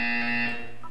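A buzzer sounds in the Portal 2 video game, a loud, steady electronic tone lasting about half a second before fading into softer residual tones.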